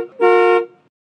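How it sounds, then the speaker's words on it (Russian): A single loud taxi horn honk, a short bright toot lasting under half a second, heard close by on its own. "Такси"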